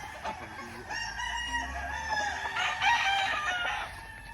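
Gamefowl roosters crowing at a game farm in Tagum City: several overlapping crows from nearby birds, one after another, loud against farmyard background.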